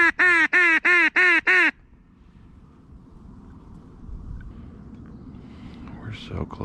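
Ducks at a marsh before shooting time give a rapid series of five loud, harsh quacks close by, then fall quiet into faint rustling and low marsh ambience.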